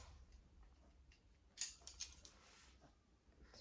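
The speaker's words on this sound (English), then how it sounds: "you can do it with your scissors." Faint, quiet snips of scissors trimming a standard poodle's coat in a lamb trim, a few sharp cuts clustered in the middle of the clip over a soft, low background.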